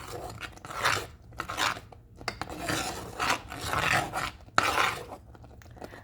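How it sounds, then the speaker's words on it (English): A spoon scrapes and stirs thick corn grits in a pot over low heat, a rhythmic series of gritty rasping strokes about once per second, close and moderately loud. "then we proceed to stir because we really don't want it to get too thick"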